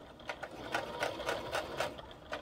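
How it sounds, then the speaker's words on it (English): Sewing machine stitching right along the seam of a fabric travel cord organizer, a steady run of rapid needle strokes with regular rhythmic bursts, close and continuous, with no talking. "stitch right across, very close at the seam there"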